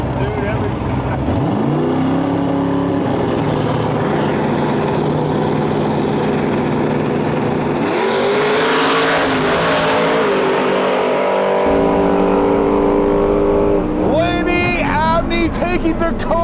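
An LS-powered Fox body nitrous drag car races at the strip: engines roar and rev in rising sweeps, a loud pass surges then drops away, and more revving follows, with voices talking throughout.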